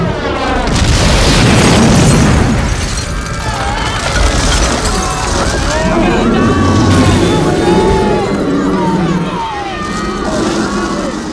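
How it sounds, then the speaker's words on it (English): Missile launches and explosions in a monster movie featuring Yonggary, heard as loud booming blasts and rumbling roars mixed with whooshing and siren-like tones, with voices cutting in over the chaos. "Missiles away."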